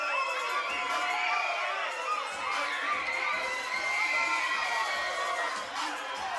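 A crowd at a boxing show in Sheffield roars and cheers throughout, a loud, sustained wash of shouting and whooping voices with high-pitched yells rising over it.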